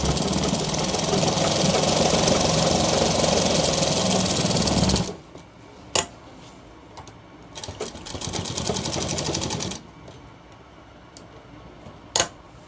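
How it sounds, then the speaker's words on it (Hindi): A sewing machine stitches along a shirt collar in one loud continuous run for about five seconds, then falls quiet apart from sharp clicks and a shorter burst of stitching. "इस तरीके से कॉलर के ऊपर हमारी सिलाई लग रही है।"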